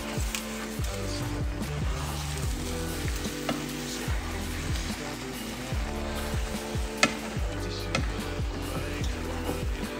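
Chicken birria sauce with a splash of vinegar being stirred in a pot over medium-high heat, a steady loud sizzle with repeated scraping strokes of the spoon throughout, no talking.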